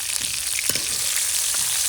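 Boiled potatoes pan-roasting in a village kitchen, a loud, steady sizzle of frying with brief stirring scrapes throughout.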